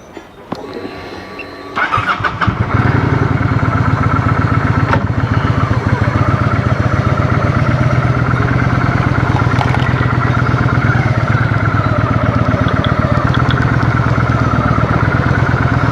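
Motorcycle ridden slowly through Ban Chang, Rayong, Thailand, heard as a steady, loud, close engine drone with road and wind noise after a brief rough start, no talk.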